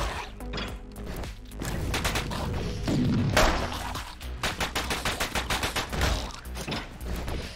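Gunfire in the video game Orbital Bullet: rapid bursts of shots with a heavy blast in the middle, then a quick run of evenly spaced rounds, loud and close with no talking.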